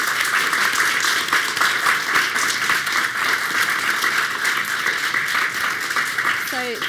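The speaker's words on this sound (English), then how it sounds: "Can we get a huge round of applause for our VP Welfare sabbatical" A large crowd gives dense, sustained applause for a VP Welfare sabbatical candidate at a student union event, with cheers and whoops mixed in and a voice speaking faintly near the end.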